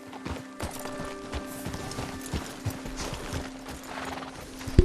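Horse hooves clip-clop steadily on the ground in the video game Red Dead Redemption 2, a close, regular trotting rhythm with faint mechanical creaks and a sharp knock at the end.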